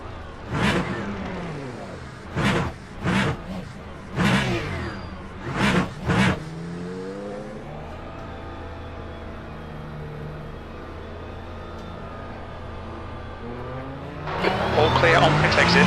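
Hypercar engine in Le Mans Ultimate, revving in several sharp bursts early on, then settling into a steady drone, with a louder rise near the end; a voice talks over it.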